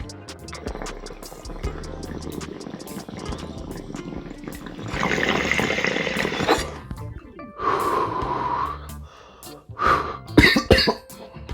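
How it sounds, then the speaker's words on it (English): Repeated harsh coughing and throat clearing from someone who has just inhaled hemp flower smoke, heard close up in bursts, with a few faint clinks and liquid sounds between them. "That induced some coughing."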